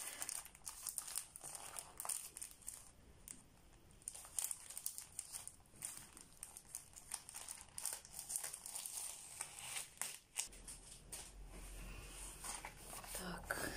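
A plastic package holding a Dimensions cross-stitch kit is opened by hand, with soft crinkling, rustling and tearing close to the microphone, quiet throughout, while a hushed voice talks.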